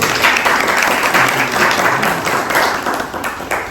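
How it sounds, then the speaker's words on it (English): Audience at a book launch event applauding, a dense, steady wash of many hands clapping that holds loud throughout before tapering slightly at the end. "Give him a big round of applause."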